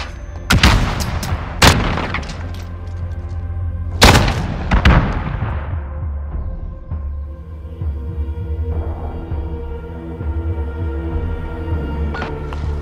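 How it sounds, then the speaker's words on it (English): Heavy gunfire and booming blasts in the game Call of Duty: Modern Warfare: several loud, sharp shots and explosions in the first five seconds, then a lingering rumble with scattered distant reports. "Gunfire."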